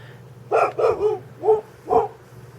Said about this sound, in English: I don't know what Chloe's barking at.